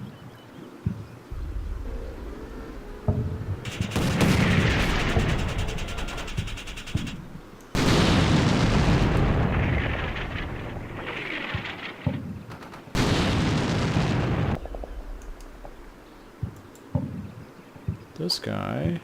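Battle tanks firing on a Legion fort in Combat Mission Shock Force, with several long, loud bursts of heavy gunfire and explosions separated by quieter stretches, and talk heard in places.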